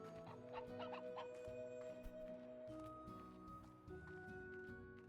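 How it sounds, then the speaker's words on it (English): Chickens cluck in the video game Slime Rancher, a faint scattering of clucks over soft game ambience and steady background music. "Bunch of gorgeous chickens."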